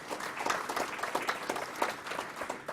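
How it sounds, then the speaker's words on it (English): A university audience claps in a steady, lively round of applause, many hands overlapping at close range with a few sharper individual claps standing out across the span. "Another round of applause."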